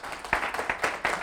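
An audience breaks into brief applause, a quick burst of several overlapping claps heard at moderate distance.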